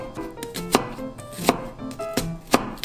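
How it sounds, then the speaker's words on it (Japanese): A kitchen knife finely dices an onion on a cutting board in quick, steady strokes with sharp rhythmic taps, close and clear. "玉ねぎをみじん切りにしていきます。"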